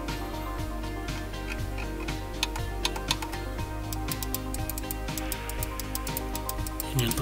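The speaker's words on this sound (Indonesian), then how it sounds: "Ini untuk suara kliknya bisa didengar." Logitech B175 wireless mouse buttons clicking in a rapid, uneven series of sharp, close ticks over a steady low background hum, with no talking.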